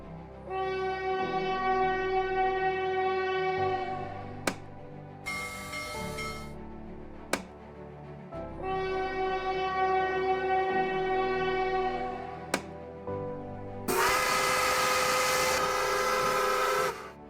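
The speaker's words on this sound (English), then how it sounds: "And stock train sounds." Stock train sound effects from the video game Choo Choo Survivor: sustained tonal horn or whistle chords looping with a low chugging rumble, sharp clicks, and bursts of hissing steam, all fairly loud and without talk.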